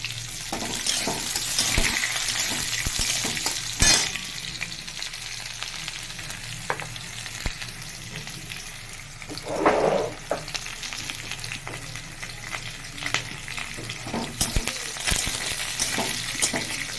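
Chopped onions fry in a hot pan while a spiced dalma-style dish is cooked: a steady sizzle runs throughout, with occasional clinks and scrapes of stirring and a louder burst of spitting near the middle.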